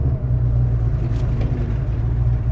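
A Ford SVT Cobra fitted with aftermarket cams cruises with the window partly down, its engine a steady, deep low rumble that holds evenly throughout without sharp revs.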